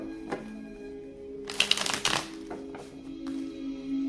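Tarot cards being shuffled by hand, a short crisp riffling burst in the middle with a few lighter card taps around it against a quiet room hum.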